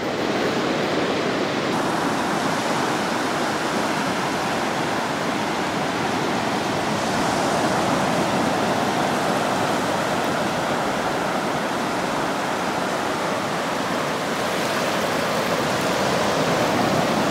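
Sea waves surging onto a beach at high tide, a loud, continuous roar of surf with no pauses, washing steadily close by with no voices.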